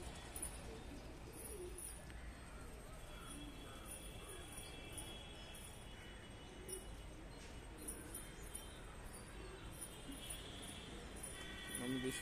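Pigeons coo softly in the morning, a low murmur under a faint, steady background hiss, with a quiet voice talking nearby.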